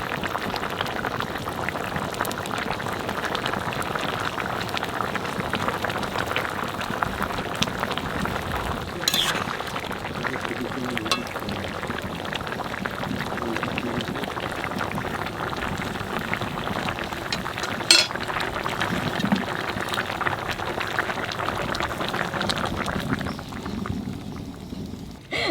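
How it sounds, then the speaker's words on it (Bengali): Egg curry simmers in a pan with a steady, close bubbling and soft spattering that continues evenly for the whole stretch, with no talking. "ডিম দিয়ে একটু জাল দিছি"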